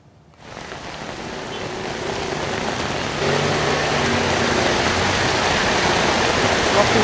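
Heavy rain pours onto a flooded stretch of Jalan Raya Pelumpang Semper Koja in North Jakarta, with the road under about 50 cm of water. A dense, steady hiss swells in the first half-second and stays loud, stepping up slightly midway.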